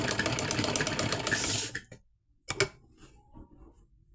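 A sewing machine darns a torn suit, whirring in a fast steady rapid ticking run for nearly two seconds, then stopping, followed by one brief burst and faint clicks.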